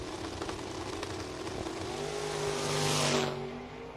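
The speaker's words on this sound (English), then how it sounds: "Sounds like that car is hooking. Listen to it go like a missile." Drag race car launching and accelerating hard down a sprayed, prepped strip at an FRBR Coastal Clash event, a loud sustained engine roar with rising pitch, swelling toward the end as it screams past.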